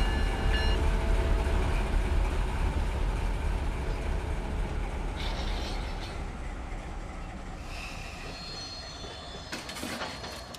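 A train rumbles along in the Run 8 Train Simulator III game, a loud, steady low rolling roar that slowly eases off, with faint squeals and clanks of the cars near the end.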